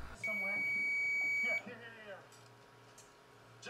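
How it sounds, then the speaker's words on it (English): A multimeter gives a single steady continuity beep lasting over a second while testing the wires of a damaged RJ45 Ethernet port on a PoE IP camera, loud and clear, then a quiet room with a little faint background sound. "the multimeter will emit a sound"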